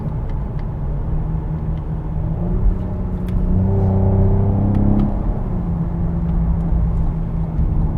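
A 2020 Cadillac CT5-V engine revs up and holds a steady, loud rumble with a rising tone around the middle, heard close and without talk; distinct exhaust pops are not clearly evident.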